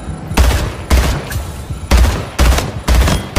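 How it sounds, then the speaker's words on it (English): Rapid bursts of gunfire from a BR in the online shooter Splitgate rattle in about five loud, evenly spaced volleys, each lasting a fraction of a second. "Who's shooting me? And from where?"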